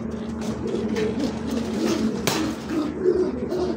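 Pigeons cooing at a market sale of pigeons, including Danish, Lahori and Beauty Homer breeds, a soft repeated cooing over a crowded, busy background.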